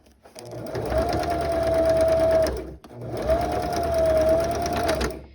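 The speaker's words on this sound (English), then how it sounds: "now I'm going to do my top stitch 1/8 of an inch away from that folded edge." A sewing machine topstitches denim an eighth of an inch from a folded edge in two steady, close bursts of rapid stitching, each around two seconds long, separated by a brief pause.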